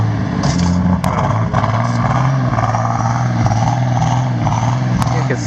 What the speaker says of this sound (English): There goes my Z! Onto that big truck.